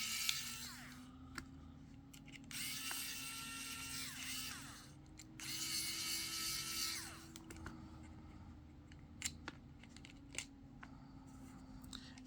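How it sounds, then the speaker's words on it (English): A screwdriver backs out four small screws from the module bay of a FrSky radio transmitter, with close, faint mechanical whirring and scraping in a few bursts, separated by small clicks and taps. "So I'm just going to use my screwdriver, removing these 4 screws."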